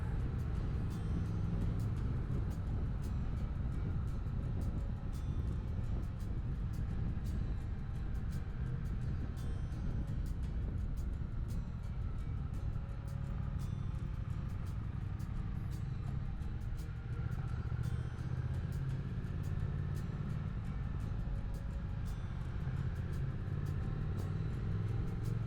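A Triumph Speed Twin 1200 motorcycle rides from a small Swiss valley town toward Leukerbad, giving a steady engine drone and wind rumble throughout, with no voices.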